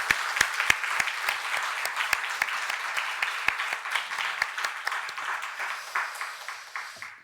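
A church congregation gives steady applause during a Sunday afternoon service, with a few sharp nearby claps cutting through the fuller sound before it thins out and fades.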